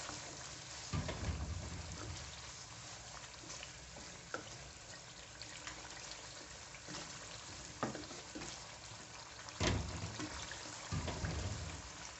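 Beef karahi simmering and sizzling in a pan as small splashes of water are added bit by bit, a continuous crackling fry with occasional louder bursts and stirring knocks.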